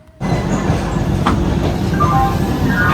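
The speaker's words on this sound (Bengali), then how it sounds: "এখনই ছেড়ে দেবে আমাদের ট্রেন।" A train pulls out of Howrah station early in the morning, its low rumble rising suddenly and then holding steady and loud, with faint squeals overhead.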